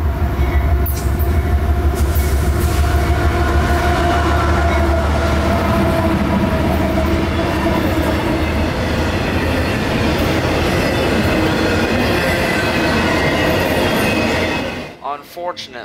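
A short CSX freight train led by locomotive CSX 527 rumbles past close by with loud, continuous clattering of wheels on rails, fading abruptly near the end.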